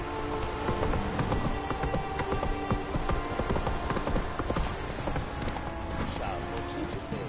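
Horse hooves clip-clopping in The Witcher 3: Wild Hunt, a steady galloping rhythm up close with rain pattering underneath and game voices talking over it throughout.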